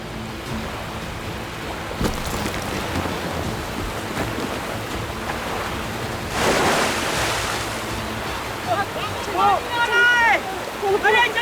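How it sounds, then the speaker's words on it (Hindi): Floodwater and waves rush in with a broad, loud roaring surge that swells midway, mixed with wind noise, while frantic voices call out over it toward the end. "अरे जल्दी आ जाओ, बाहर का पानी आ रहा है।"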